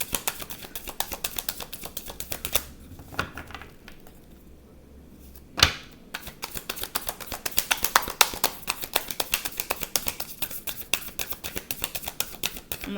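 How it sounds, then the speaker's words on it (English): Playing cards being shuffled by hand during a tarot-style reading, a steady run of crisp riffling clicks and flutters that briefly pauses, then resumes with a sharper snap, fairly close and with no talking. "I'm going to shuffle the card."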